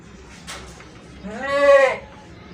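A pure Gulabi goat gives a single clear, nasal bleat of about a second, close by over a faint background murmur.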